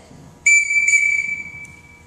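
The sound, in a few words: two whistle blows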